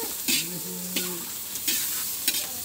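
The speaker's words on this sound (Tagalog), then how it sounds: "Nilagay na rin niya yung repolyo guys. Para daw makasama sa gisa." Cabbage stirred and sautéed in a pan while cooking pancit bukid, with a soft steady sizzle and several scraping stirs of the utensil against the pan, close and fairly quiet, no talk.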